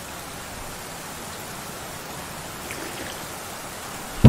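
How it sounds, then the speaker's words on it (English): Steady rain in the Roblox game Lumber Tycoon 2, a soft even hiss of falling drops that holds constant throughout with no talk over it, ending in a brief louder bump. "I guess I can turn off the rain now."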